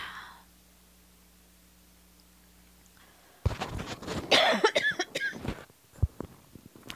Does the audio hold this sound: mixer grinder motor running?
no